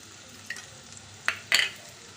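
Two bay leaves and two kinds of nuts frying in oil, with a few short spatula scrapes and clinks against the pan over a faint sizzle, close by and without speech.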